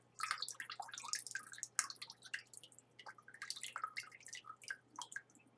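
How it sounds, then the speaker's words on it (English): Liquid poured carefully from a household drain trap into a vessel, making a faint, irregular patter of drips and small splashes close by, with no talking. "We go along with a vessel there and we throw down all the liquid carefully so no big solids go down there."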